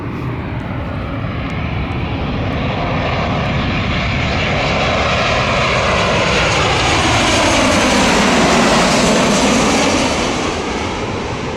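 A United Airlines airliner passes low over the Cleveland airport runway, its engine roar loud and steady throughout, swelling with a sweeping pitch shift as it goes by close overhead.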